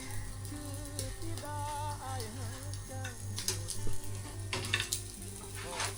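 Beef and chili stir-frying in a pan, sizzling with scraping and ticking utensil strokes while a voice chatters intermittently over the cooking.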